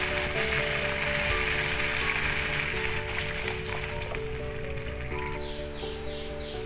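Boiling water hits hot oil and tomato paste in a pan, producing a dense, steady sizzling hiss that slowly eases, with a tonal hum running under it.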